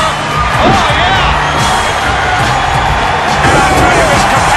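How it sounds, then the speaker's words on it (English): Video game crowd in WWE No Mercy roaring and cheering for a wrestling match, a loud, dense wall of noise with whoops that never lets up, partly under a commentator's voice. "this capacity crowd is going crazy for these guys. Many are standing and cheering"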